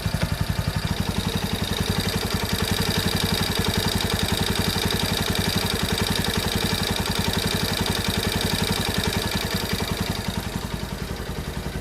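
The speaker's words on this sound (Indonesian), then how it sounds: "Ini suara mesin setelah ganti noken as pakai noken as custom." A Honda Tiger Revo motorcycle engine fitted with a custom camshaft idles steadily and close by, a continuous rapid mechanical clatter with even firing pulses holding a constant level throughout.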